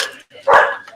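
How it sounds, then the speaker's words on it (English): A stirred-up dog gives a single sharp, close bark, with faint voices around it. "I got the dog stirred up."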